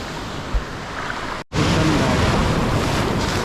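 Rough surf breaks on the shore at a low-tide fishing spot, a broad continuous roar mixed with wind buffeting the microphone, cut by a brief dropout before it surges back at full strength.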